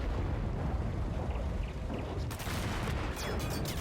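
HE rounds fired in a Mount & Blade modern-warfare mod battle: a dense, continuous rumble of gunfire and explosions, with sharper crackling bursts joining loudly partway through.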